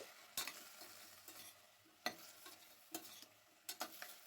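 Cauliflower, cabbage, beans, carrot and peas are stirred in a frying pan for pav bhaji, with a soft sizzle under several scraping, clattering strokes of a spoon, close and moderately quiet.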